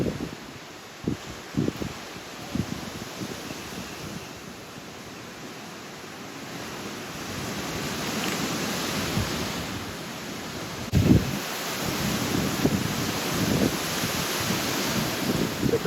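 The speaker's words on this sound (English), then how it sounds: "It's pretty windy out there now, gusting past 50k." Strong gusty wind outdoors beside the water, gusting past 50 km/h, buffeting the microphone with a steady roar that swells louder in surging gusts over the second half.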